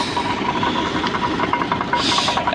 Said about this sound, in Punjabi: ਇਹਨੂੰ ਵੇਲਣਾ ਕਹਿੰਦੇ ਨੇ, ਤੇ ਟਰੈਕਟਰ ਨਾਲ ਚੱਲ ਰਿਹਾ ਜੇ।